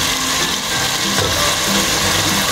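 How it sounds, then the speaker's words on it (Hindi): Tomatoes being stirred into okra frying in a pan, a steady close crackling sizzle with faint scraping, continuous throughout and free of talk. "ये हमने मिक्स कर दिया इसके अंदर टोमेटो"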